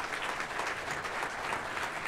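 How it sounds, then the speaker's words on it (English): A graduation ceremony crowd applauding a graduating student, dense steady clapping from many hands filling the room for a couple of seconds, moderately loud and without pause. "Please give him a round of applause"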